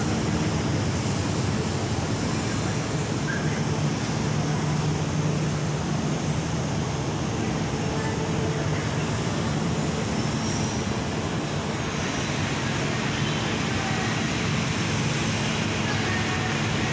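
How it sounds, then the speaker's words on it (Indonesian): A light rail train rumbles steadily into a station in Palembang, Indonesia, a constant roar of wheels on track with faint squeals, heard from nearby on the platform. "ini menunggu KRL-nya yang akan datang"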